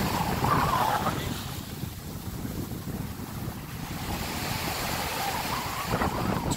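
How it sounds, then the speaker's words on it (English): Strong wind buffets the microphone by the sea on a Grenada beach, a steady loud rumbling roar with surf washing underneath throughout. "It's really windy."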